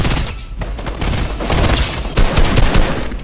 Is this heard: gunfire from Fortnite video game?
yes